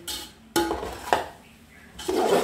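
A utensil scrapes and stirs through Rayalaseema vuggani in a pan in a few separate bursts, with quieter pauses between them.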